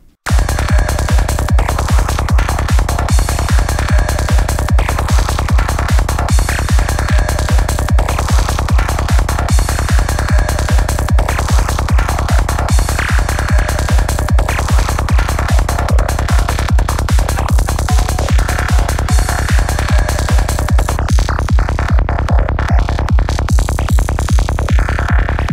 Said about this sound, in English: I just have the percussion and the kick and bass, and then a single lead to get this depth of atmosphere.